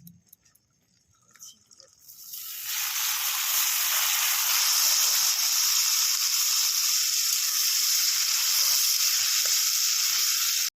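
Drained taro stolons go into a hot wok, and the frying rises after a quiet start into a loud, steady, close hiss and sizzle that holds to the end.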